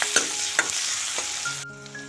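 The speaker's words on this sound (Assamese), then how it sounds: "আৰু এই পিঁয়াজখিনি লাইট পিংক হোৱালৈকে মই ভাজিম।" Onions frying in hot oil in a pan sizzle steadily, with a few sharp stirring scrapes, then the frying noise cuts out abruptly near the end, leaving faint tonal background.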